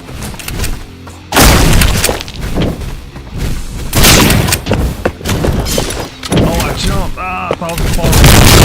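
A shotgun blasts repeatedly in the roguelite shooter game Holy Shoot, loud booming discharges spaced a second or two apart with rumbling tails, mixed with game effects and someone talking over the action.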